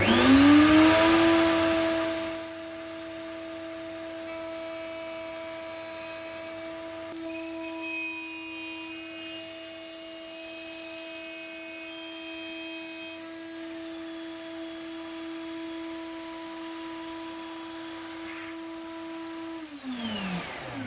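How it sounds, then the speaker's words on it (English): A dust extractor hooked to a tablesaw tenon jig spins up with a rising whine, then runs as a steady, close hum with a bright tonal whir before winding down at the end. "it's connected to my dust extractor"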